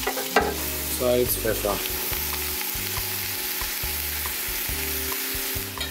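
Onions and bacon frying in a pan for French onion soup, a loud continuous sizzle with stirring under a low humming background, while a voice speaks briefly.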